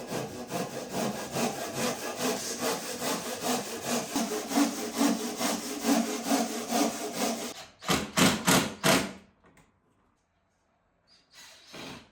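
Insulated plasterboard being hand sawn freehand at a 45-degree angle, with rapid rasping strokes close up for about eight seconds, then a few slower final strokes and near silence.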